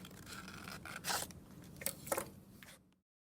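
Scissors cut out paper sea turtles, giving a few quiet close snips and scraping rasps at an uneven pace, with no talking, before the sound stops.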